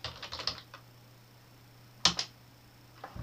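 Keys clack on a computer keyboard as a short Gmail search is typed, a quick cluster of taps followed by a couple of sharper strokes after a pause, close and alone.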